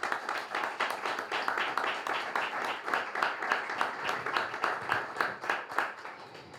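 An audience at an evening publishing and reading awards event applauds to welcome the sculptor of the prizes, steady close clapping with a pulsing rhythm that tapers off at the end.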